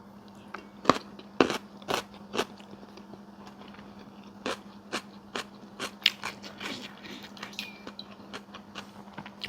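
Eating beef curry with tough beef and potatoes: close, quiet chewing broken by a series of sharp, irregular crunchy bites and clicks, with no talking.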